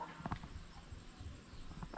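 RTL hens close to laying give short, soft clucks, a few scattered calls that stay faint against a quiet farmyard background.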